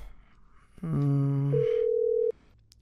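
A telephone line sounds a short run of electronic tones, then a single steady tone held for about a second before cutting off. The background around it is quiet.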